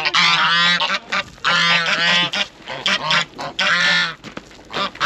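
Several geese honk loudly and close by in repeated bursts of harsh calls, with short gaps between the clusters and no talk.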